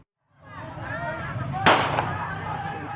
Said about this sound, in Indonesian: Polisi sempat memberikan tembakan peringatan ke udara untuk membubarkan massa.